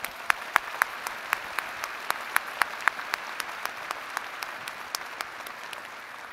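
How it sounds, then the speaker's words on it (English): A commencement audience claps in a moderate round of applause. Distinct sharp individual claps stand out over a soft, diffuse patter throughout. "let's give you a round of applause"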